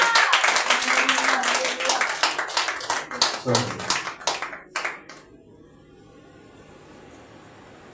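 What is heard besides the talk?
congregation clapping hands in praise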